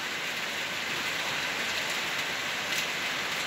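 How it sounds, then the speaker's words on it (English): Steady rain pours down on a farm during a lingering heavy storm on waterlogged ground, making an even, dense hiss that continues unbroken throughout with no voices. "It's still raining yet."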